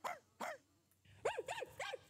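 A person barks in imitation of a dog: two sharp yelps, a short pause, then three quick close barks, loud and alone with no other talk.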